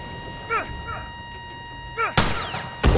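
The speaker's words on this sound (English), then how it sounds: "A grenade launcher?" Explosive blasts in The Last of Us Remastered, with grenade-launcher fire: two sharp, loud booms late in the clip, preceded by faint chirping tones and low rumble, with no talk over them.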